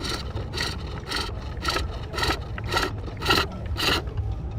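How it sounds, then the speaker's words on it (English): A hand tool scrapes and cuts into wood while hollowing a bowl, in about eight regular strokes, each a crisp rasping sweep, close and clear with no talking. "You can know when the tool is cutting well because it makes a nice sound like that."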